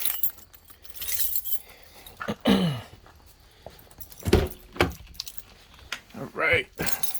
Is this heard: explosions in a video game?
no